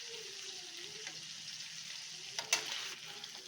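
Pieces of chicken fry on a tawa over a low flame, giving a soft, steady sizzle with a few brief scrapes and clinks of stirring.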